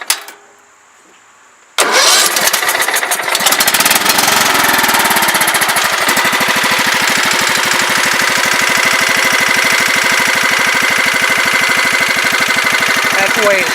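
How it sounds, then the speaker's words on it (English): A repaired lawn mower engine whose carburetor was fixed after a no-start fault catches and then idles steadily, a loud, close, even mechanical drone that runs unbroken for over ten seconds after a brief quiet start. "That's the way it should idle."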